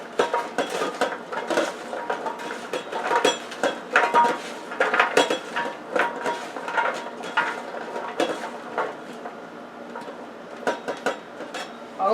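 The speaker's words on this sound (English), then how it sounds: "we're going to mix that all in, rubbing it on the green beans and the peppers" Green beans and peppers being mixed and rubbed with garlic paste in a pan, giving repeated clinks and scrapes of utensils against cookware in irregular bursts, close and moderately loud, with no talking.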